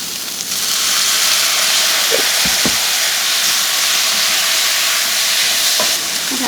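Ginger and garlic fry with cooked chicken in a hot pan, giving a loud, steady sizzle and hiss with a few soft stirring knocks and clinks, no voices.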